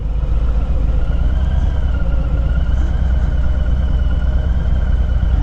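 A 2021 Harley-Davidson Fat Boy rumbles steadily at low speed, its engine a constant, close, even drone with no pauses and no talk over it.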